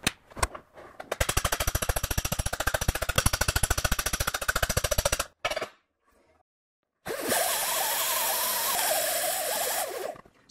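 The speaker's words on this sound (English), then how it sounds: "There's still a couple of small low spots that I'll raise by hammering." Rapid, steady metallic tapping from a hammer raising low spots in copper sheet, close up, followed by a pause and then a droning power tool.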